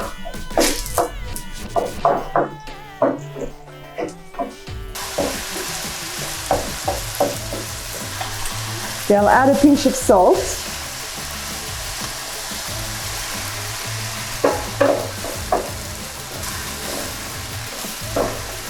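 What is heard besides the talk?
chicken frying in oil in pan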